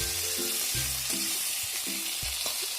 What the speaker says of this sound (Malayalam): അതിലേക്ക് ഒരു 2 വലിയ ഉള്ളി, ഒരു 3 പച്ചമുളക്, കുറച്ച് കറിവേപ്പില, കുറച്ച് ഉപ്പ്, ഇത്രയും ചേർത്ത് നന്നായിട്ടൊന്ന് വഴറ്റിയെടുക്കണം.